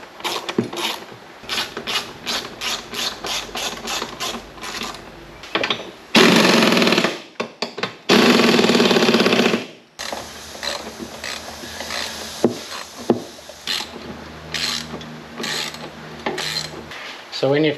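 Bolts being tightened on a golf cart during a 2-seat to 4-seat conversion: rapid ratchet clicking in bursts, with a couple of loud, sustained power-tool runs and metallic clanks, close and intermittent.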